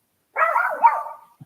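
A single close, loud bark from a pet dog, drawn out into a wavering, whiny yelp that tails off, heard alone against silence.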